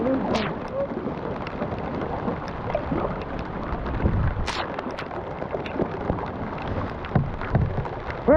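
Rain patters steadily on water and a kayak during a Memorial Day paddling trip in Hermon, Maine, a dense continuous hiss with occasional louder splashes and knocks close by.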